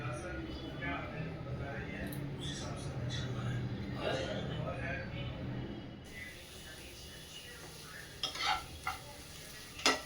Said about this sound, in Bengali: মোচা একটু নাড়তে হয় ভালো করে